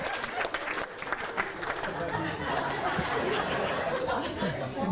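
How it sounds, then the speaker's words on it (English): Wedding reception guests applaud together, a steady burst of clapping mixed with crowd chatter and some laughter that carries through the whole stretch. "so a big round of applause for both Evie and Nadine as well."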